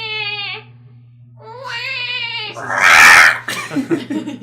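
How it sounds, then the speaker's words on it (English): Stray cats fighting outside: drawn-out caterwauling yowls rise and fall, then break into a harsh hissing, spitting burst and scuffle, heard at moderate distance. "you can hear the stray cats fighting in the background."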